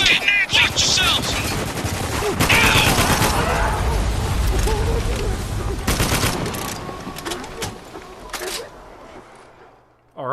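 Shotgun blasts and gunfire in the war shooter Spec Ops: The Line, a dense, loud burst of shots and combat noise running for most of the stretch before trailing off, with a voice speaking under the din.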